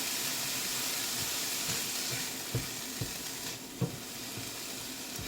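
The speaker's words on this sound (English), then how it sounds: "pan fry it with a little bit of oil" Chicken and shrimp, partly frozen, pan fry in a little oil with a steady soft hiss and a few sharper pops and bumps from the pan, close and moderately quiet with no voices.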